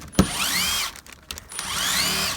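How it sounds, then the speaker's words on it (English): A power drill bores into a brick wall lintel on a house, a steady high whirring grind running nearly continuously with a brief dip midway, close and without talk. "we're going to try to drill our hole in this lintel about right here"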